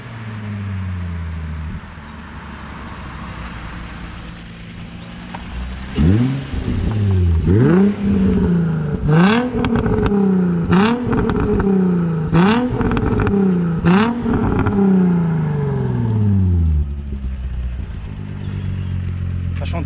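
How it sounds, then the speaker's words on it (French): A Nissan 350Z's Japanese V6 is revved hard again and again, each sharp rise in pitch dropping back in a quick, rhythmic series of loud, close blips over a steady idle. "Ça chante quand même bien les V6 japonais là."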